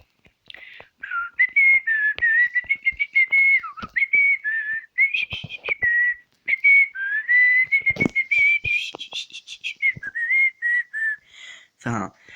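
A person whistles the Steamboat Willie Mickey Mouse melody, a clear close tune in many short phrases and notes with brief pauses, along with a few soft breathy or clicking sounds.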